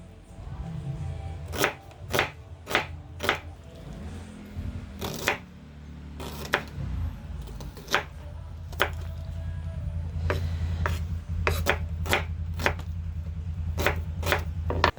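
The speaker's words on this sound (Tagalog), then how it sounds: "Tapos na po ang ating pag-slice ng sibuyas at kamatis." Onion and tomato being sliced with a knife for a radish salad, a series of sharp separate cutting knocks on a board, irregularly spaced, against a low steady hum.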